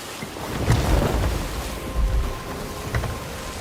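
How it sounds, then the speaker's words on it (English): Rain hisses steadily over open sea in a video game storm, with low rumbles of thunder rolling through in a few swells, a dense wash with no talk. "Is it just always a storm here?"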